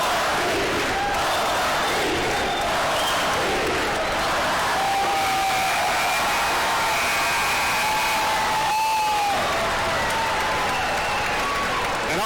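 A basketball crowd at a college conference tournament championship cheers loudly and continuously, a dense roar of voices with whoops and shouts, while commentators talk over it.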